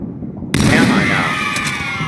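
A burst of gunfire in the Halo 2 video game, on the Sniper Alley map, erupts abruptly and loud after a half-second of low background, then sustains a dense, crackling roar with high-pitched ringing tones over it.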